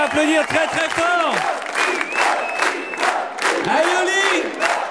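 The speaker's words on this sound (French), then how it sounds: "Vous pouvez les applaudir très très fort" A French television studio audience claps and cheers loudly, with whoops and shouted cries rising over the applause in uneven bursts, several voices calling out near the microphone.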